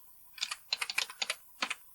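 A computer keyboard typed on at close range, with quick bursts of crisp key clicks in short irregular runs and a final pair of taps.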